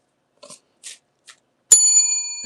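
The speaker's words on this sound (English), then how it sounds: "Hit the bell on that. The dinner bell." A dinner bell struck once, ringing out clearly with a long, bright decaying tone after a few soft taps in an otherwise quiet room.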